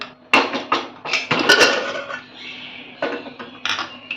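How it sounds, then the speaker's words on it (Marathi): A pressure cooker set onto a gas stove gives a series of metallic clanks and knocks, close and moderately loud, with short scraping contacts between the impacts. "सर्वप्रथम मी इथे गॅस ऑन करते त्यामध्ये मी आता ठेवणार आहे कुकर"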